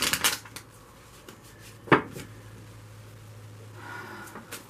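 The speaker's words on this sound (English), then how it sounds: "So I'm just going to shuffle it a little bit." A new, unused tarot deck being shuffled: short papery riffles and card slaps at the start, one sharper snap near the middle, then a quiet soft rustle, close and fairly faint, with no voices.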